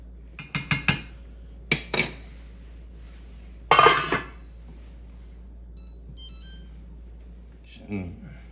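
Fondant potatoes are flipped in a pan. A quick cluster of sharp metallic clinks and clatters is followed by one louder scraping burst, with quiet stretches and a faint clink near the end.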